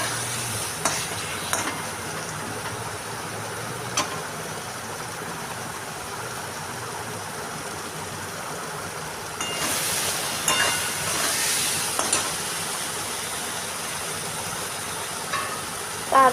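Mutton curry masala with Kashmiri chili powder and a little sugar is stirred and fried in oil, giving a soft continuous sizzle broken by scattered spoon scrapes and clinks and a busier burst of stirring midway.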